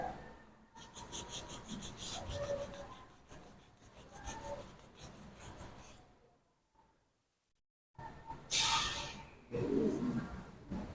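A cloth rubbed across a dirty mirror in steady back-and-forth strokes, a soft rasping scrub that stops for a moment of near silence before resuming, with faint bird calls in the background.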